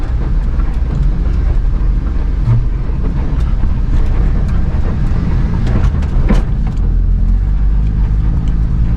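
The Zuk drives through about two inches of snow in two-wheel drive on a new set of DOT tires, a loud steady engine and tire rumble with crunching, continuous and close, no talk.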